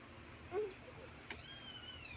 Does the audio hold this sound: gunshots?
no